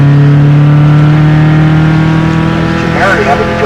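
Formula Continental single-seater race cars battle for position at Mid-Ohio, a loud sustained engine drone holding steady pitch with a rising whine near the end, under commentators' voices.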